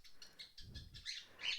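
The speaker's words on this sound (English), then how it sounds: "my bird is so loud" A pet bird calls loudly and repeatedly in a room, with shrill bursts getting louder toward the end.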